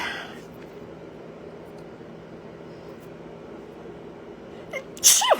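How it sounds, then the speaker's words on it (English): A single sharp sneeze bursts out near the end after several seconds of quiet background hum. "I'm gonna sneeze."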